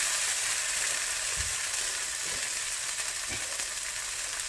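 Halloumi cheese slices fry in a pan over medium-low heat for a peri peri burger, giving a steady, even sizzle with a few soft bumps from the pan.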